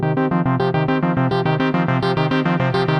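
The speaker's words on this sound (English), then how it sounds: "So here I have a simple 5-step sequence coming from the voltage block" A simple 5-step quantized sequence from a modular synth's voltage block loops steadily, a bright, buzzy tone stepping through the same pitches again and again at an even, brisk pulse, loud and alone.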